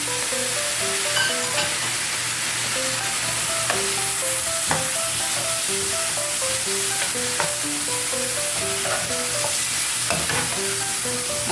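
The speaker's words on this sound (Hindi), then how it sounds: "अब हम इन तमाम चीज़ों को अच्छी तरह से मिक्स कर लेंगे ताकि टमाटर, प्याज, मसाले वगैरह जो हैं वो आपस में अच्छी तरह से मिक्स हो जाएं" Tomatoes, onions and spices stirred in a sizzling pan for karela keema, with steady frying hiss and scattered scraping clicks from the spoon throughout.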